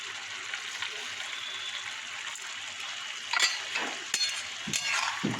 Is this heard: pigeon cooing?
no